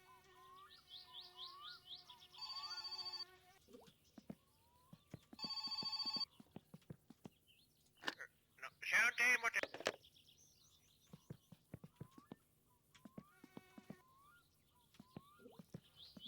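A telephone rings in the game My Summer Car, with repeated bursts of an electronic trill at a moderate level, set among bird chirps and other ambient game sounds and no talk.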